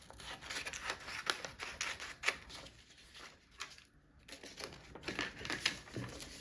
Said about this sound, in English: I'm just gonna go ahead and cut this out.